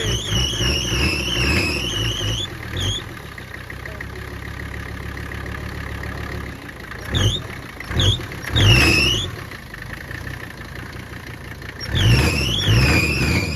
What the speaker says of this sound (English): That was a cold rev.